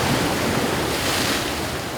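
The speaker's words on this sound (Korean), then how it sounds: "쉴 새 없이 밀려드는 파도 속에서" Sea waves wash and crash against a sharp, rocky island shoreline, a steady loud roar of surf and spray mixed with wind buffeting, with no voices.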